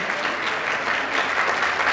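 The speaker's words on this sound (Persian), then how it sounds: "بله خیلی تشویقشون بکنید." An audience applauds a couple's Viennese waltz dance performance, with dense, steady clapping that stays loud and even throughout, no voices above it.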